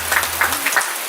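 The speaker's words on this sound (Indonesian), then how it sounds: "Tepuk tangannya." A short stretch of dense crowd applause at a poetry festival awards announcement, many hands clapping at once, steady and fairly loud.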